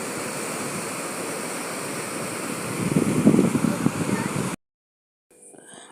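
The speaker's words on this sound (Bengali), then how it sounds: "আর জলটা কিন্তু বিশাল জোরে যাচ্ছিল, মানে জলের স্রোত খুব মানে জোরে ছিল, খুব আওয়াজ হচ্ছিল, তোমরা ভিডিওতে শুনতেই পাচ্ছ।" Fast-rushing river current near temples in Nashik during rain, a loud, steady broadband roar that swells in the middle and then cuts out abruptly, followed by faint trailing noise.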